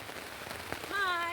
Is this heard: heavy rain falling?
yes